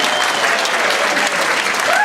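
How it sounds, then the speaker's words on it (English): An audience at a comedy show applauds, a dense, steady wash of clapping from a crowd that fills the whole moment. "give yourselves a big round of applause"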